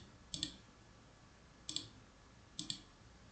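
A computer mouse gives three quick double clicks, crisp and close but quiet, spaced about a second apart in an otherwise quiet room.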